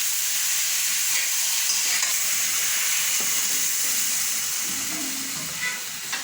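Water is poured onto spice masala frying in a pan for a new-potato curry, giving a loud, continuous, hissing sizzle that eases off slightly near the end.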